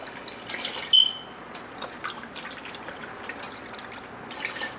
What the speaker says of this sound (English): The last portion of veggie broth is going to be 3 cups.